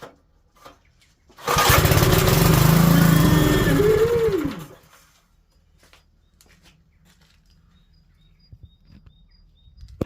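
A 100-euro motoculteur tiller engine with a faulty pull starter fires up after a pull and runs loud and close for about three seconds, then drops away to near silence with faint background sounds.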